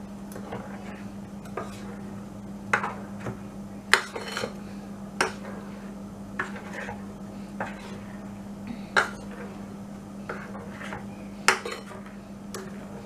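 Appam batter being mixed in a bowl, with repeated sharp clinks and taps of a utensil against the bowl over a low steady hum, irregular and fairly close.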